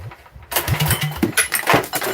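Small 79cc engine clamped to a workbench, starting after a brief quiet moment and running with a loud, close, uneven rattling putter.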